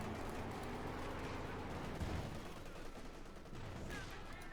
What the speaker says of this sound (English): Straight into the machine gun here and a 6-pounder gun.